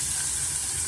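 A large, finely chopped onion frying in a pan for spicy chicken sukka gives a brief, steady, close sizzle and hiss with no voices.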